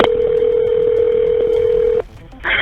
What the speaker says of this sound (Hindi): फिर थोड़ी देर बाद शायरा 911 को कॉल करती है।